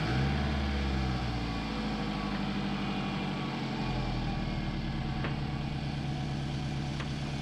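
A Scion tC engine idles nearby right after a valve cover gasket replacement, a steady, continuous low rumble with a faint mechanical whir and no pauses.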